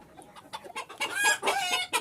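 Silver Sebright chickens clucking and calling in quick, overlapping bursts, close and fairly loud, with a sharper crow-like cry near the middle and no talking.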